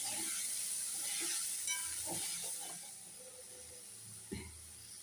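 Cauliflower florets fry with a tomato and cumin paste in a pan and are stirred, giving a steady, close sizzling hiss broken by a few soft knocks and scrapes.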